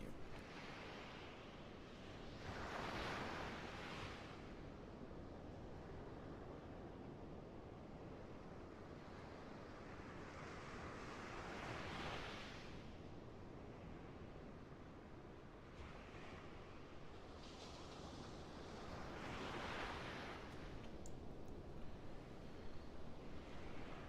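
Ocean surf rolls in slow, soft swells, each wave rising and washing out every several seconds against a steady low rush of water and faint wind, with no voices.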